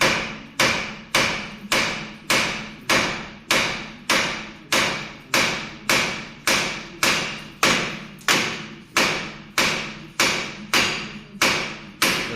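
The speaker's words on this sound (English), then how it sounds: "Hit the knuckle, it'll create shock, and it will start to drop, right?" A hammer pounds repeatedly on the steering knuckle of a Toyota Aygo track car's suspension, about sixteen evenly spaced loud metallic blows over twelve seconds, each ringing briefly before the next strike.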